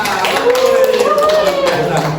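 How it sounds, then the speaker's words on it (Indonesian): Classroom applause for a student who won a timed quiz, a short burst of clapping from a group of pupils with voices chattering over it. "Tepuk tangan buat Arisa."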